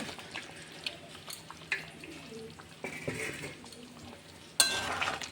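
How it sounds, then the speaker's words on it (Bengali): Potato, pointed gourd and egg stir-fried with spices in a pan give a low, steady sizzle under scraping and stirring strokes, with a sharper clatter of the utensil near the end. "সব একসাথে বেশ ভালো করে কষিয়ে নেব"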